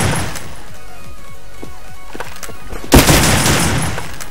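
Rapid gunfire in a shooting video game with the K weapon pack, repeated bursts of shots followed by a loud blast near the end, with no talk over it.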